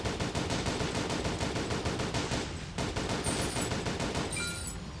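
Dense, rapid automatic gunfire from the zombie shooter game Unkilled, loud and continuous bursts filling the whole stretch, with a brief dip midway and some higher metallic game effects near the end.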